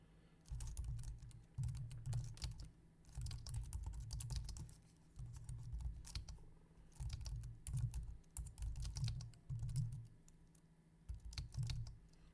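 Steady typing on a computer keyboard in a word processor, a continuous run of close, crisp key clicks with short pauses between bursts and no voices.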